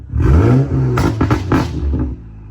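A BMW M235i with a straight-piped exhaust revs to about 2,000 RPM, a loud, close, deep rasping rise and hold, with a few crackling bursts before dropping back to idle.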